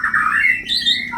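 A pet bird kept for breeding gives a loud, close, drawn-out squawk that rises and falls in pitch over about a second, with no talking.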